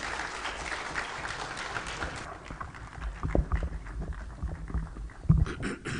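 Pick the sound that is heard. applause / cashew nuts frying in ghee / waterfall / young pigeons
applause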